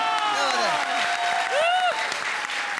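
A comedy show studio audience gives a strong round of applause under a lively background, with voices and rising whooping tones over the steady clapping for the whole short stretch.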